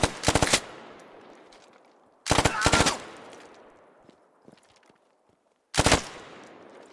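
An autorifle in the Squad video game fires three short, sharp bursts, each a tight cluster of shots followed by a long echoing tail fading into near silence before the next burst.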